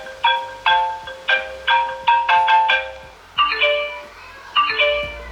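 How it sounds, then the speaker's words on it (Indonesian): A flip-style smartphone plays an iPhone-derived ringtone melody, a series of bright, chiming electronic notes in a repeating pattern, loud and clear with no talk. "Untuk ringtone-nya ternyata ini bunyi-bunyi yang dicomot dari iPhone ya"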